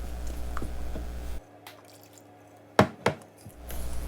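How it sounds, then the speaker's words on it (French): Lukewarm milk is stirred by hand into brioche dough, giving soft wet squishes and drips near a running appliance hum, then a pair of sharper, sticky squelches in a quieter stretch. "J'ajoute le lait en 2 fois tout en remuant."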